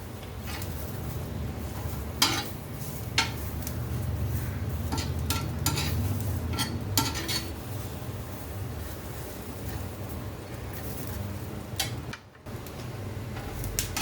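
Pieces of coconut and garlic roasting together in a pan, with a steady low sizzle running throughout. Scattered ticks and scrapes of stirring cut through it, and no voice is heard.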